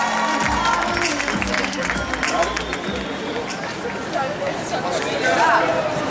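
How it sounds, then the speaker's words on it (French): Concert crowd at an outdoor show on Place de la République cheering and applauding for a singer, a dense, steady roar of clapping and shouting with voices mixed in, loud and sustained throughout. "on l'applaudit bien fort."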